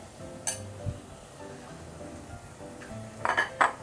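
Prawn biryani masala stirred in a pot, with a few sharp spoon clinks against the metal and soft scraping between them, close and fairly quiet.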